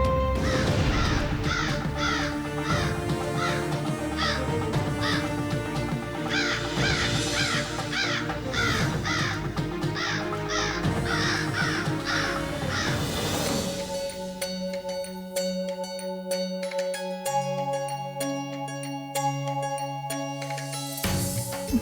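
A giant bird calls with repeated loud, harsh cawing cries in a steady rhythm. Near the end the cries give way to lower sustained tones.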